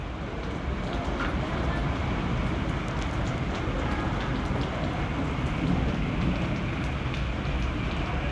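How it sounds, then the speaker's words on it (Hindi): Heavy monsoon rain pours steadily over flooded Lahore streets, a dense, loud, unbroken hiss of drops close by with a low rumble underneath. "लाहौर में इस वक्त 130 मिलीमीटर बारिश हो चुकी है"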